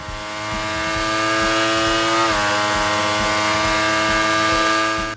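A Ducati Panigale V4S's 1103cc V4 engine runs with a steady, loud, buzzing exhaust note that holds roughly constant pitch, with one brief blip midway, heard up close and alone.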